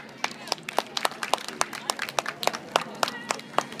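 Audience clapping for Nankan Toppamaru, the mascot character of Nankan town, at a regional mascot event; a dense, steady patter of many hands close by, with no voices over it.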